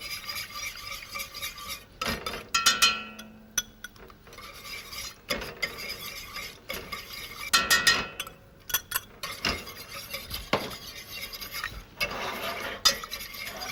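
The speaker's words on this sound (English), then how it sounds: "You add your butter gently into it. You keep on whisking it." Butter being whisked into a sauce: irregular metallic scraping and clinking of a whisk against a pan, with louder bursts of stirring between quieter stretches, close and with no voices.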